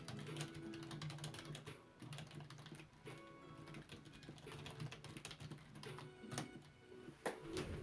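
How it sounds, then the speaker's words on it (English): Quiet, steady typing on a computer keyboard with dense, continuous keystroke clicks, faint against a low background hum, and no one speaking. "Oh, typing."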